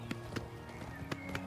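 Horse hoofbeats in the video game Oblivion: a few quick, soft clops in a running rhythm over a quiet bed of game music and ambience.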